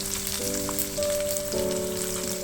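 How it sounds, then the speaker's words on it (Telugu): Mustard and cumin seeds splutter in hot oil as chopped onions go in for a tamarind chutney. A dense, close crackle and sizzle runs the whole time under steady tones, with no talking. "ఆవాలు జీలకర్ర చిట్టపట్టలు ఆడుతున్నప్పుడు కట్ చేసిన ఆనియన్స్ వేసుకోండి."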